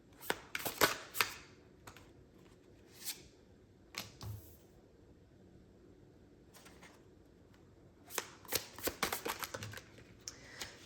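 Tarot cards are shuffled close by in two bursts of rapid riffling and flapping, separated by a quieter stretch with a few isolated taps.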